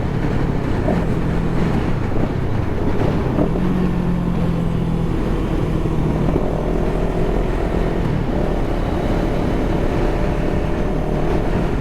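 Loud, steady wind roar buffets a Scorpion EXO-AT960 helmet on a motorcycle cruising back roads at about 60 mph, a continuous rushing blast with no talking.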